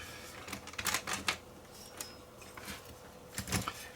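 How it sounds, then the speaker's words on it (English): A Betamax cassette is pushed into the loading slot of a Sony SL2500 deck, giving a few faint, close plastic clicks and small mechanical clatters against quiet background hiss. "When you push in the tape, it activates a switch."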